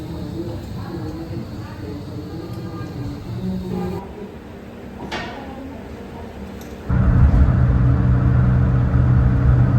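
A Daihatsu Mira fitted with a newly welded exhaust flex pipe rumbles low and muffled at first, then its engine note jumps to a loud, sustained drone near the end.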